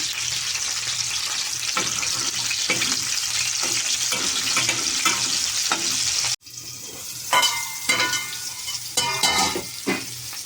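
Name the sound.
dried fish pieces frying in oil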